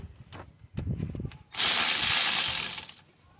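A ratchet fitted with a wobble adapter turns a 12mm nut while a starter is removed from a 2003–2012 Honda Accord 2.4L engine, giving a few quick close clicks followed by a longer steady hissing rasp.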